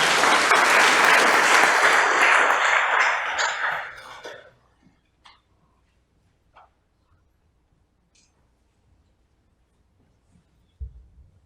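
Loud audience applause closing a law book presentation on pretrial detention, sustained for about four seconds and then cutting off, followed by near silence with a few faint scattered knocks and shuffles.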